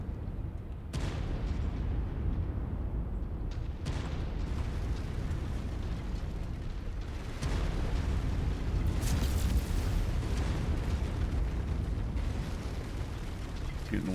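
Heavy weapon fire and artillery explosions in the mech combat game MechWarrior 5, a dense rumbling barrage with several sharp booms cutting through a continuous low roar.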